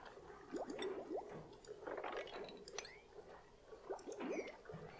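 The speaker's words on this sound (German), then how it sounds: "Müssen wir hier unten mal weiter wischen." Wet squishing and dripping sound effects from a duplicant mopping up water in Oxygen Not Included, repeating in short soft bursts over a steady game background, with no talking.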